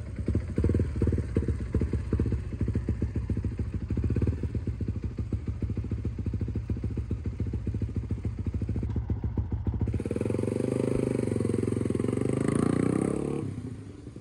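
A motorcycle engine fitted with a 62 mm bore setup runs close by with a rapid, steady pulsing idle, then shifts to a smoother, louder roar near the end before easing off.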